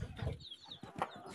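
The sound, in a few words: chickens clucking on small farm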